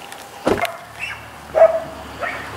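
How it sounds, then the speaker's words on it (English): Two dogs barking indoors at a house viewing in Edmonton, Alberta, with a few sharp barks and yips in short bursts, moderately loud and close, with no talk over them. "He's got two nice dogs, but they're really barky."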